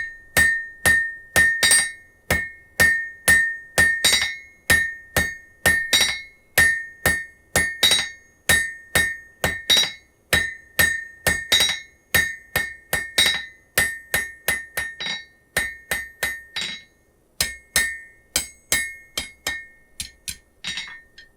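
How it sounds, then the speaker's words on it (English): A blacksmith hammers hot steel on an anvil, drawing the end to a point, with loud, ringing metallic blows in a steady rhythm, around two per second, continuing with brief pauses. "I'm going to just lay it right on the anvil and start shaping the end to a point."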